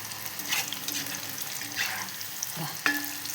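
Masala chickpeas fry in hot oil, giving a continuous close-up sizzle and bubbling hiss with a few brief clinks and stirring noises, without speech.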